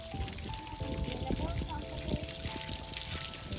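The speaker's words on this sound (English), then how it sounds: "Now you're washing the car." Water pours and splashes during a car wash, a continuous trickling spatter beneath faint background voices, with a couple of brief steady tones sounding near the middle.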